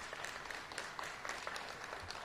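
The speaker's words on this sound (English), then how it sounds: "Please give them a round of applause." Faint, steady applause from an audience at a grand opening ceremony for a newly built elementary school, a dense wash of many distant hands clapping continuously with no voices standing out.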